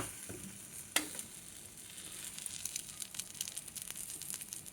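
Kodiguddu attu, an egg pancake, frying in a pan, a soft continuous sizzle and crackle close by, with a sharp clink of a utensil near the start and faint scraping through the rest.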